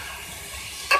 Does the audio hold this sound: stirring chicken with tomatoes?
yes